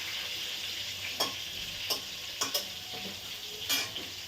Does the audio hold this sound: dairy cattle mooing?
no